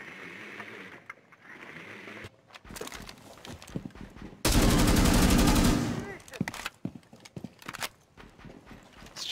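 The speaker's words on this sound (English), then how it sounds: "Our teammate's on the roof shooting at a fucking ceiling." Rapid automatic gunfire from a teammate in a shooter video game, a dense loud burst lasting about a second and a half mid-clip, surrounded by scattered shots, footsteps and game noise.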